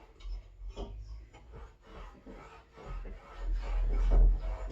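A hand plane shaving wood on a small countertop, close irregular scraping and rubbing strokes that grow louder and heavier toward the end, with no talking.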